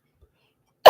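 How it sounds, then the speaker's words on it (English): A person gives a single short, sharp cough right at the end of an otherwise silent moment. "I'm not coughing because the cake."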